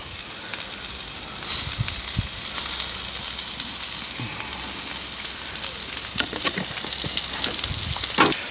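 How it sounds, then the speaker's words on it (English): Potatoes fry in oil and butter alongside tri-tip, giving off a steady, dense sizzle and hiss throughout, with a few light spatula taps and scrapes near the end. "I'm going to let them sit and fry"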